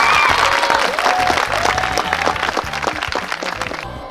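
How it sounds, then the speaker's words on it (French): An audience claps at a recreational day event in Port-Gentil, a dense, loud burst of applause with some crowd noise and background music underneath, tapering off toward the end. "On applaudit pour Alex."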